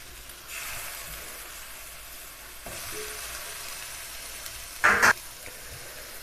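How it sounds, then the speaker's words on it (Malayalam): Chicken pieces hit a pan of spiced masala for Kerala-style nadan chicken thoran and sizzle with a steady, close hiss while being stirred, with a sharp metallic scrape near the end. "ചിക്കൻ ചേർത്ത് നന്നായിട്ടൊന്ന് ഇളക്കി ചേർത്ത് കൊടുക്കാം."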